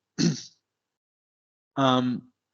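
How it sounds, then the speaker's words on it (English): Two short coughs separated by about a second of silence, the second one harsher and more voiced. "I'm sorry that I'm coughing"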